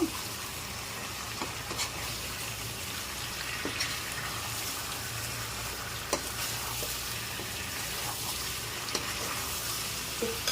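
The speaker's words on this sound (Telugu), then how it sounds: "ఇంకొక 5 మినిట్స్ ఫ్రై చేసుకున్నామండి." Chicken fries in a non-stick pan with a steady, close sizzle and occasional scraping stirs, without talk throughout.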